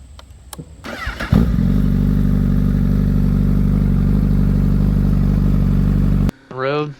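A Honda CBR1000RR liter bike's engine fires up and runs loud and close with a steady, even drone. It cuts off abruptly near the end, followed by a brief voice.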